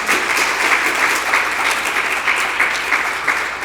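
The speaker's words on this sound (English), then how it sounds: "let's give them a huge round of applause" A graduation audience applauds parents and mentors with loud, sustained clapping from a large crowd that stays steady from start to finish.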